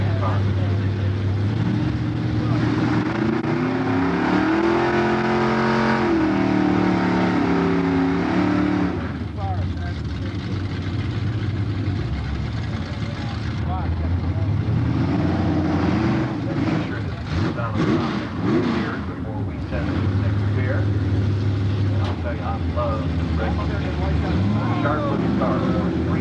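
A 5-liter Ford Mustang fastback at a high school drag strip event, its engine roaring loudly and steadily with rising and falling revs, under continuous crowd noise and talk.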